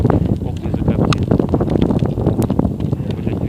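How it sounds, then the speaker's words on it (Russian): Wind gusts across an outdoor bonfire of burning cans or cylinders, a steady close rushing and buffeting roar that fills the whole moment, with muffled voices faintly mixed in. "загородите ветер, Настя."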